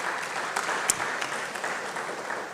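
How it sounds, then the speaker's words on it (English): Audience applause at an Africa Connect Initiative gathering celebrating diversity, steady clapping from a crowd throughout with a few sharper claps standing out. "So a round of applause again to the organizers"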